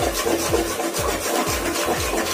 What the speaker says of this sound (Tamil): இப்போ இந்த எக்கை வந்து நல்லா மிக்ஸ் பண்ணிக்கலாம்